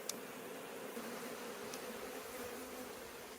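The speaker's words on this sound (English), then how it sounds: "There are quite a lot of young bees." Honey bees hum steadily over a hive frame crowded with young grayish bees, a low continuous drone without pause, fairly close and moderately quiet.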